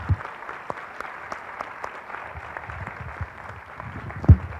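An audience at a sports equity panel event claps steadily, a dense patter of applause from a moderately sized crowd, with a louder thump near the end.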